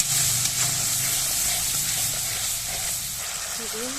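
Ground spices with turmeric, coriander and chili powder fry in a pan, a steady close sizzle with faint stirring and some low murmuring voices underneath.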